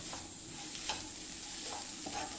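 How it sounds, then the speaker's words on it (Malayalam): Beef roast masala being sautéed with garam masala and pepper powder in a Kerala-style kitchen, giving a steady soft sizzle with light scraping stirs, fairly quiet and with no voices. "ഒരു അര സ്പൂണ് ഗരം മസാല ചേർത്ത് കൊടുത്തു കുരുമുളക് പൊടി ഒരു ഒരു സ്പൂണ് ചേർത്ത് കൊടുത്തു നന്നായിട്ടൊന്ന് വഴറ്റിയെടുക്കണം"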